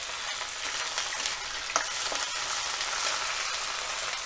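Okra sizzles and spits in hot oil over a high flame for dahi bhindi, a steady bright frying hiss with occasional pops and stirring scrapes, close and continuous.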